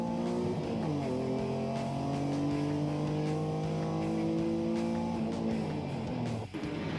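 Onboard engine of an Alfa Romeo GT 3.2 race car, loud and close, revving up through the gears in rising sweeps, with a brief lift near the end.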